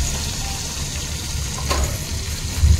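Onion and minced meat frying in a pan for keema khichuri, giving a steady, close sizzle with no talk throughout.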